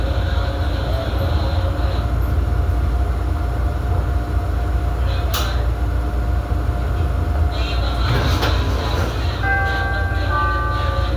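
Steady, loud rumble of a Chicago CTA Brown Line subway train, car 3398, rolling along rails, with brief squeals and a chime near the end, and no speech.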